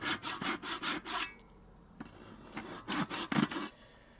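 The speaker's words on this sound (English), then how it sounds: "I'm just using the saw to get some of the depth to aid when I chisel the shape out." A hand saw cuts into wood to set depth before chiselling out a knob or handle shape: two bursts of quick rhythmic back-and-forth rasping strokes, close and clear, separated by a short quiet pause, no voices.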